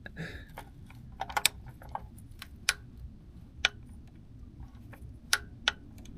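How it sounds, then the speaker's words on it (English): An SK Tools 3/8-inch click-type torque wrench, set to 25 newton meters, tightens a car's oil filter with a quiet ratcheting sound and a series of sharp, close clicks spread irregularly over a few seconds. "Let's go tighten up this oil filter."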